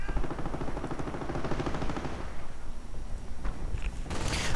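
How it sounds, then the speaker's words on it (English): Rapid 20mm autocannon fire from a Schwere Panzerspähwagen armored car in the video game Company of Heroes 2, a loud, continuous burst of fast repeating shots that thins out midway, with further distant gunfire and a sharp blast near the end. "Schwere Panzer Spähwagen with its 20mm auto cannon, letting hell loose upon those unfortunate riflemen."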